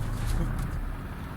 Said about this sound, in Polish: Aha, gołębie latają już.